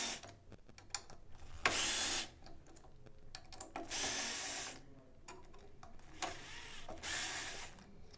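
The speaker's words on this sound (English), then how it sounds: "we're going to remove these 3 hex head bolts. They're 1/4 inch, so you'll need a 1/4 inch drive" Hex head bolts being loosened with a 1/4 inch drive tool, heard as several loud bursts of mechanical ratcheting and whirring, each lasting under a second, separated by quieter handling clicks and rattles.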